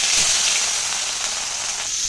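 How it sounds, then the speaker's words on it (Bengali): Fish sizzles and spits in hot mustard oil in a wok, a loud, continuous bright frying hiss with no voices. "দেখো মাছটাকে এবার ভেজে নেব।"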